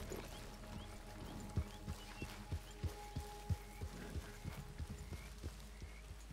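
Horse hooves clip-clop in the Red Dead Redemption video game, a series of sharp, fairly regular knocks over a steady low background hum, quiet and with no voices.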